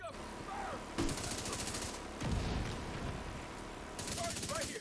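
Assault rifle fire in The Division 2, bursts of rapid automatic shots in several sustained volleys with heavy combat noise between them, while voices shout over the action.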